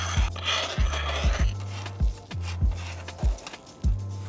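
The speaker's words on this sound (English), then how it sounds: "we're gonna put these square head channel bolts into the back of our awning." Square head channel bolts slide into the rear channel of an aluminium 270 XL vehicle awning, giving a series of sharp metallic clicks and scrapes at a fairly steady rhythm over a low mechanical hum, close by with no talk.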